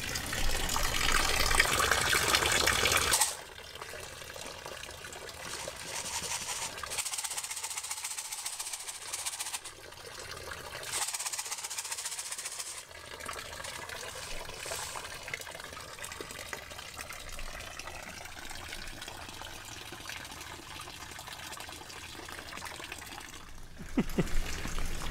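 Water gushes steadily while a turtle's tank is flushed out on an overcast morning, a continuous broadband rush with a louder burst at the start and brief dips and swells, no talking.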